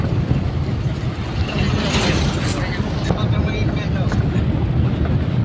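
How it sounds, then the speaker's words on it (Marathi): A tractor passing on a rural road, a loud, close, rumbling engine drone with mechanical rattle and wind buffeting that holds steady throughout. "आणि हे बघा ट्रॅक्टर गेला."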